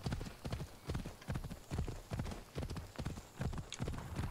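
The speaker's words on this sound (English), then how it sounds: "Let's get the horse." Horse hooves clip-clop in Assassin's Creed Odyssey, a steady, fairly quiet run of rhythmic hoofbeats in quick paired strikes throughout, with no talk over them.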